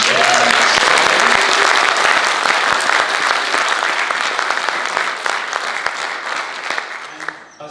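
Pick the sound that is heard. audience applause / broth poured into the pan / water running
audience applause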